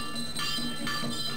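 Clanging metallic bell-like strikes ring out in steady rhythm during a Shiva aarti prayer, with a gong and drum played together in a dense, reverberant wash of sustained ringing tones.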